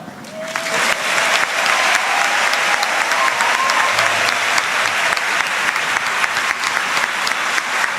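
An audience breaks into sustained applause at a Catholic gathering, the clapping rising quickly and continuing dense and steady for several seconds.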